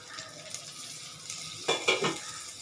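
Onion and garlic fry quietly in a pan with a little salt, a faint sizzle under soft stirring with a couple of louder metallic scrapes near the end.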